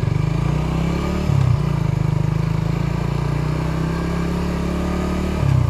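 A motorcycle is ridden along a road on the outskirts of Singkawang. Its engine drones loud and close with a steady rhythmic pulse, and the pitch shifts briefly twice as the rider changes throttle. No voices are heard.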